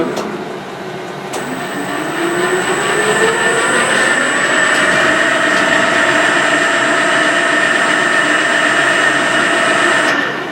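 Corma horizontal milling machine, rescued from a steelworks, drilling its first hole with a ten drill bit at low spindle speed: a loud steady mechanical whine and hum with a high tone, running continuously and close up.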